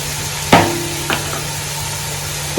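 Ginger, garlic, mint and coriander paste frying in a pan for Ambur mutton biryani, with a low steady sizzle broken by three sharp scraping stirs of a spoon.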